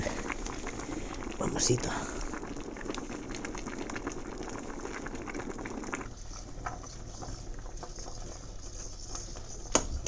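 Salmon soup with vegetables bubbles steadily in a pot, a constant close boiling patter under a voice, with a couple of brief clinks.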